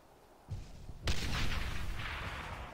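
A muffled boom hits after a quieter thump, followed by a loud rumbling blast that lingers and slowly fades, in the video game Brothers in Arms: Hell's Highway.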